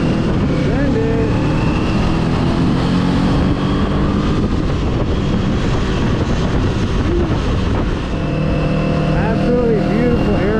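A 2024 Kawasaki Eliminator cruiser motorcycle accelerates on an inland road near Oceanside, California, its engine droning loud and steady throughout with heavy wind rush over the microphone.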